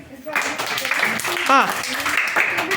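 A group of schoolchildren in a classroom claps together in a dense, continuous patter that starts abruptly, with a voice speaking over it.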